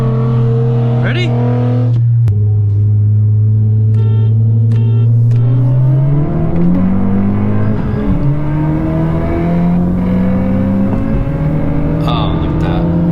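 A 10th-generation Honda Civic Si engine revs through the gears, pitch climbing then dropping at each shift as it pulls into fourth, loud and close throughout with a voice talking over it.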